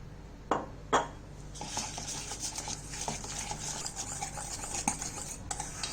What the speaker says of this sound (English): Let's whisk this up into a thick batter.